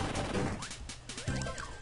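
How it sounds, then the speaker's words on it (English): Bursts of explosions in Kirby and the Amazing Mirror, a handheld platform game, with crunchy chiptune blasts and synth effects packed closely together over game music. "Explosions!"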